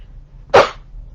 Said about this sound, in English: I'm gonna sneeze, I'm sorry.